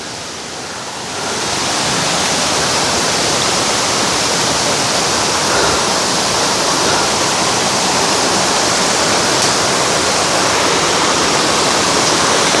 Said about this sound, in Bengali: দেশের তৃতীয় উচ্চতম ঝর্ণা